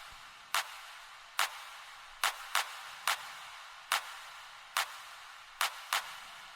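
Clap loop from a techno sample pack, processed with effects and with its low end cut. Crisp, bright claps repeat in the same syncopated pattern with slightly longer smeared tails, heard alone at moderate level.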